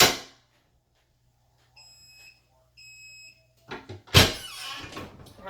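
A vinyl heat press for T-shirts gives two short, high electronic beeps, spaced about a second apart. Clunking handling noise and a louder mechanical thump from the press follow, all close by with no talking.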